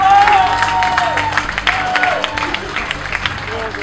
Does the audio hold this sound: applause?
yes